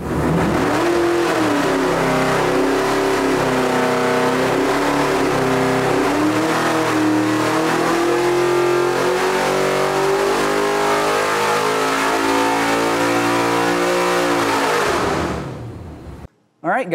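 Engine on a dyno running E85 fuel, loud sustained revving that climbs steadily in pitch under wide-open throttle for about sixteen seconds before cutting off abruptly.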